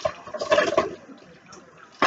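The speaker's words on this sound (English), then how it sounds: "put my water in" Water is poured into a pot while home cooking: a short gushing splash up front, then quieter trickling, with a fresh burst of water at the very end.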